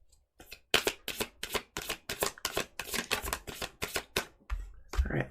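Tarot cards are shuffled in quick, crisp riffling bursts, a steady run of close, papery flutters with brief pauses between.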